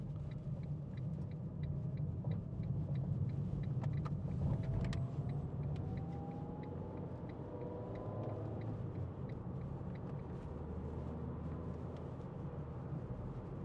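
Steady engine hum and tyre roar from a 2011 Ford Ka 1.2 Studio three-door driving along a road, a constant low rumble with light wind noise throughout.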